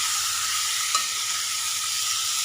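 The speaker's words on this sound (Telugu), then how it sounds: "ఒకసారి కలిపేసుకొని" Chopped medium tomatoes frying in a pan while being stirred, a steady close hiss of sizzling with one brief scrape of the spoon partway through.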